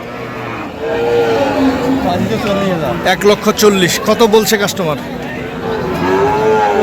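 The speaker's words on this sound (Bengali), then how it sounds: "দেখছিলাম দুধের গাভী এবং বাছুরগুলো" Dairy cows and calves lowing at an open-air cattle market, drawn-out moos rising and falling close by while people talk and bargain over them, with crowd chatter in the background.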